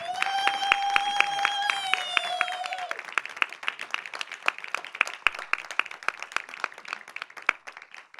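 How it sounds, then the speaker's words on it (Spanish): Loud, continuous applause from an audience at the MACBA museum talk, with whistles and cheering over it for the first few seconds, then steady clapping that carries on. "les pido un aplauso desde ya para ellas"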